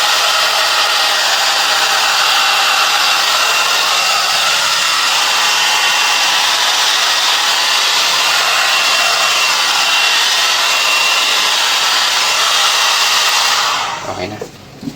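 A blower runs loud and close with a steady, broadband rushing roar as it dries a flood-soaked Carrier inverter aircon, then cuts off near the end.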